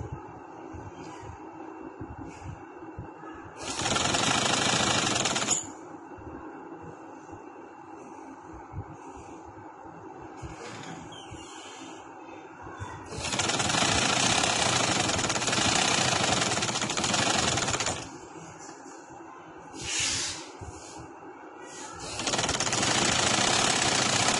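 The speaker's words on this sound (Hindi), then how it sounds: "ये देखें मैं डबल सिलाई लगा रही हूँ।" Sewing machine stitching a double seam on a one-year-old girl's baby frock, running in loud, steady rattling bursts of a few seconds each, with quieter handling sounds and pauses between runs.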